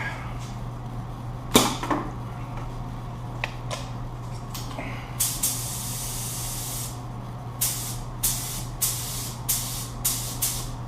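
A spray gun hisses in repeated short bursts and a few longer passes as sealer is sprayed over carbon film, spaced irregularly and moderately close, with a steady hum beneath.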